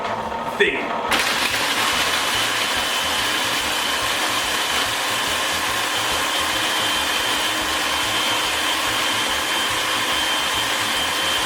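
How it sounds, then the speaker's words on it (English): An ice cream machine whirs loudly and steadily as it purees Oreo ice cream, a constant motor drone starting after a brief moment of quiet and continuing unbroken to the end. "if you press the puree button, it's gonna do the thing"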